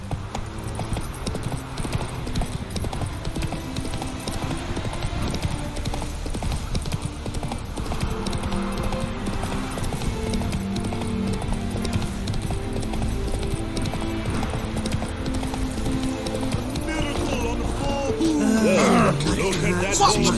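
Horse hooves clip-clop steadily at a gallop across the whole stretch in The Witcher 3, close and continuous, with a brief whinny near the end and some game voice and music beneath.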